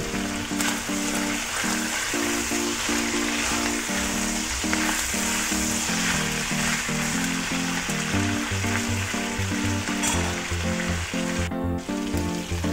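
Pork belly marinated in dried fish and black pepper sizzles steadily in a pan, a dense continuous crackle with scattered pops, close and loud and alone throughout.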